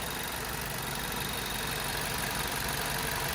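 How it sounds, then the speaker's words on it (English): A 2009 Ford Focus SE engine idles steadily and evenly, a constant close rumble with no changes in pitch or rhythm, no voices. "nice and smooth running engine"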